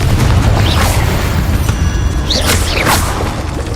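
A Confringo spell explosion from the video game Hogwarts Legacy booms loud and close, with a heavy low rumble, crashing debris and whooshing magical sweeps layered over it.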